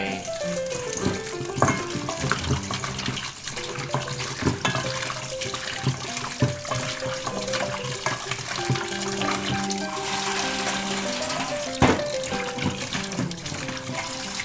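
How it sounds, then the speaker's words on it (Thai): Pork ribs being rinsed in water with salt, with a steady stream of running water and splashing, plus a few louder sloshes, close up and continuous. "ล้างประมาณ 3-4 น้ำนะครับ"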